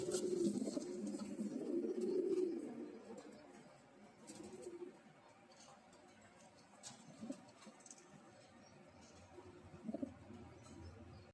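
A male Sheikh Shali pigeon at a pigeon farm gives a few soft, low coos, faint and close, between quiet rustling and small taps.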